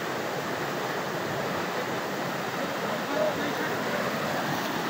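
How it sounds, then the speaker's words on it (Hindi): Floodwater rushes toward a bridge at Khawajgan in Mansehra, a dense, steady roar of churning water that fills the whole stretch without pause. "और ये पानी पुल के ऊपर दाखिल होने वाला है।"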